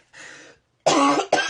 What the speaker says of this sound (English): I got a cough because of the pollen.